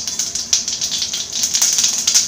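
Mustard seeds crackling and popping in hot coconut oil in a pan, a steady dense sizzle with quick irregular pops close by, no voices.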